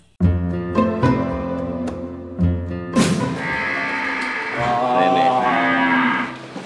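Cows moo loudly and close by in a cowshed, long drawn-out lowing calls one after another, with a few dull thumps underneath.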